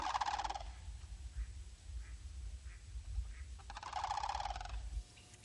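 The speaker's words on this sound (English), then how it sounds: "Resident and overwintering birds spend the short days busily feeding in the prairies." Birds feeding in swamp prairies in winter, with two loud gobbling, turkey-like calling bursts at the start and near the end over quiet outdoor ambience in between.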